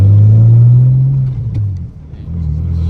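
A big single-turbo BMW 335i with manual gearbox and anti-lag, heard from inside, gives a loud, deep engine rumble under boost that fades and dips midway, then builds again.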